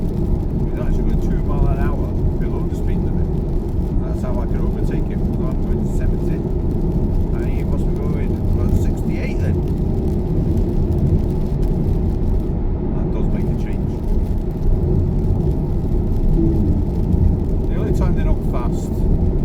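A car cruising on a motorway at night in heavy rain, giving a steady, unbroken drone of engine and road noise from inside the cabin throughout, with a voice talking over it.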